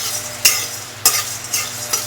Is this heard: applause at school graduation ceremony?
no